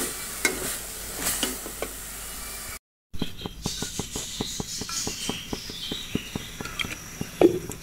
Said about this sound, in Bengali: শাক ভাজার জন্য কড়াইয়ে তেল দিলাম, আর এখন দিব কেটে রাখা পেঁয়াজ